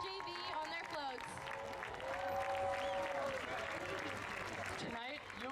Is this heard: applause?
yes